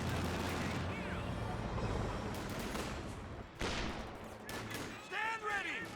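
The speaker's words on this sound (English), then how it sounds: "Our squad firing away against the Fusiliers." A rifle squad trades fire with Fusiliers in Company of Heroes 2, bursts of gunfire crackling steadily at mid-distance amid battlefield rumble, while a voice talks over part of it.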